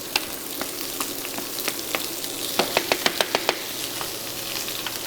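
Eggplant sautés in a pan for Iraqi eggplant stew, a close, steady frying hiss punctuated by a run of sharp, regular clicks from a spatula scraping and tapping the pan.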